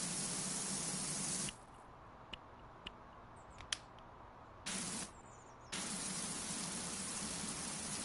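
A turbo-nozzle pressure washer in Powerwash Simulator 2 hisses in a steady, loud spray that cuts out, gives a few clicks, bursts briefly, then resumes continuously.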